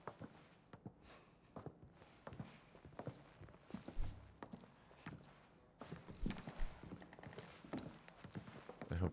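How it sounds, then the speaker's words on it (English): Footsteps in Indiana Jones and the Great Circle: several sets of feet tread in an irregular, overlapping patter, moderately close, over quiet game ambience. "I hear multiple footsteps"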